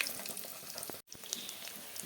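Onion and garlic fry in hot oil in a pan along with a dried red chilli and curry leaves, giving a steady close crackling sizzle that drops out for a moment midway and then resumes.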